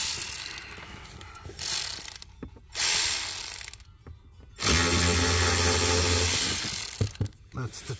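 A ratchet clicks in short bursts while backing out a T20 Torx screw from interior trim on a BMW 7 Series 750Li F01/F02, close and sharp with brief pauses between runs.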